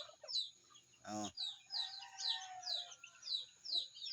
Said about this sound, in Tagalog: Lawag kita sa atong mga binuhing manok